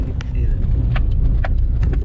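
Mahindra KUV100 with a worn engine mount clunking over potholes: a few sharp knocks punctuate continuous low road rumble from inside the moving car.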